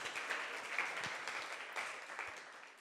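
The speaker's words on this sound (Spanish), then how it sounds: "Vamos a darle un fuerte aplauso a Pedro," Church audience applauding Pedro, a steady wash of many hands clapping at moderate level for about three seconds, with a few louder individual claps and faint voices mixed in.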